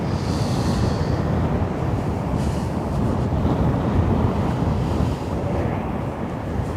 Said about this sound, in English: And it's getting windy. It is. Very windy. Getting very windy.